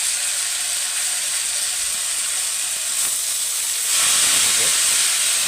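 Chopped potatoes sizzling in a pan with browned onions, a steady bright hiss of frying that grows a touch louder toward the end, close and uninterrupted.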